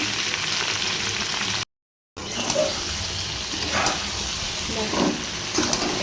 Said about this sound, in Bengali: এই যে আলুটা দিয়ে দিয়েছি দেখো দিয়ে দিয়েছি সবজিগুলো একসাথে করে সব কষিয়ে নেব